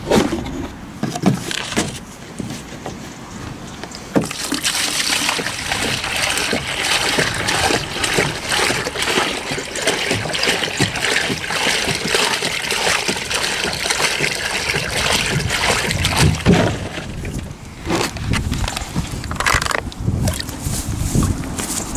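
Water being poured and splashed for a downed cow, a continuous rushing, trickling wash with irregular knocks and bumps, close and fairly loud throughout.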